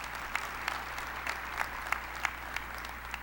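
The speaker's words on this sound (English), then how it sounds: "Please give them a round of applause." An audience in the Beacon Theatre claps at a 9/11 memorial ceremony, a moderate, even patter of many hands heard from some distance.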